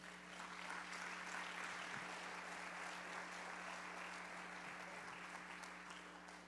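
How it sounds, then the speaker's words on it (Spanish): A church congregation claps loudly and steadily, a dense, continuous wash of applause filling the room for several seconds without pause. "Denle un fuerte aplauso a Dios."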